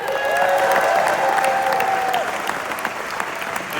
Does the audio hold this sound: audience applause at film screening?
yes